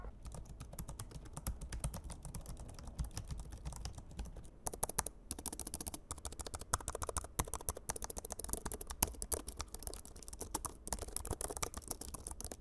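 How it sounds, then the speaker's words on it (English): Rapid typing on the mechanical keyboard of an AVON gaming laptop with an RTX 2070; its tactile switches resemble Cherry MX Browns. Close, crisp clacking keystrokes run steadily throughout with no talk. "Here's a quick typing sample."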